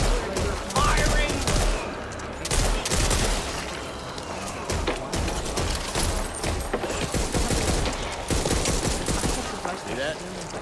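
Rapid bursts of gunfire from a shotgun and other weapons in Back 4 Blood on nightmare difficulty, loud and dense, with repeated sharp shots over game noise and occasional voices.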